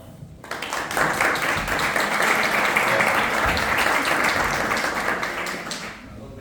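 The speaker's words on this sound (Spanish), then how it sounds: "Un aplauso, por favor." A seated audience breaks into applause for a speaker being introduced, the clapping starting abruptly, holding as a thick, even roar, then thinning toward the end.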